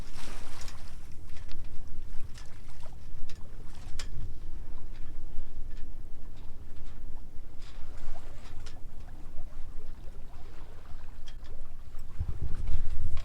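An O'Day 28 sailboat moves through mild wind, producing a continuous rush of wind and water with occasional soft knocks and splashes, fairly loud and with no voices.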